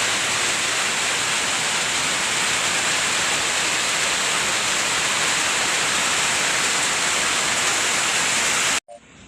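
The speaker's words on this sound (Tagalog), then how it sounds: "Ang lakas ng ulan sa labas." Heavy rain pouring down outside during a typhoon, a loud, dense, unbroken roar of downpour that continues for about nine seconds before cutting off abruptly.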